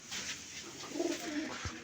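Rajshahi Giribaz pigeons of the Light Biscuit colour coo softly at close range, giving low, rolling, repeated coos over a quiet background.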